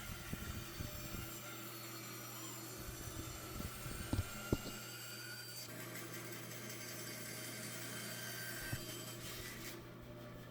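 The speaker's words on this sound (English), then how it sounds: "I'm just going to try and trim it back a little bit on the bandsaw" A bandsaw trims a wooden mallet blank, producing a steady, fairly quiet whirring drone with brief louder rubbing cuts partway through, and the tone shifts near the end.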